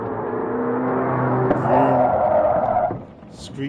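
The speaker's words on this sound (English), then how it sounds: "The sound of a car engine and screeching tyres urges you to open your eyes" A car engine hums steadily in the video game Rue Valley, swelling into a louder rising roar midway before dropping off, with a brief high squeal near the end.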